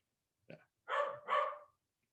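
A household dog gives one short yip followed by two fuller barks, close and fairly loud, with silence in between and afterward.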